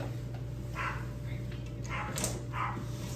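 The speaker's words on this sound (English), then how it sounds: "Our neighbor's dog is named after Kanoa Igarashi." A neighbour's dog barks in short sharp yaps, four or so spaced bursts heard at a distance over a constant low hum.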